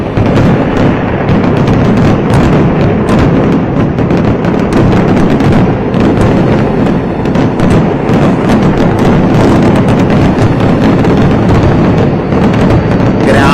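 A village festival fireworks display, a large ritual firecracker set lit by hand, erupts in a dense, unbroken barrage of loud booms, cracks and pops that keeps going for the whole stretch.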